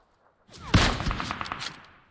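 Burst of gunfire in the mobile battle royale game PUBG Mobile, a rapid volley of shots starting abruptly and continuing for over a second at close range, alone without talk.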